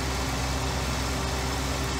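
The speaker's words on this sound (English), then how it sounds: "If we can get a double tractor pull through this field." Two tractors hitched together pull a cultivator through a field in Canada, heard as a loud, steady engine rumble close by with no talk over it.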